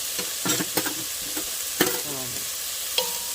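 Bacon and onion sautéing in a pan for Zuppa Toscana, with soft sizzling under intermittent stirring and scraping clinks, close and moderately quiet.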